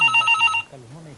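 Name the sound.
telephone ringing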